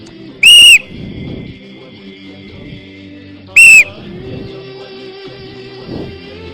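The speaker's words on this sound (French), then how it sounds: "Je siffle. Quand je siffle." Two short, loud bursts from a referee-style whistle blown by a presenter at a children's holiday contest semi-final, spaced about three seconds apart over a murmur of crowd and background noise.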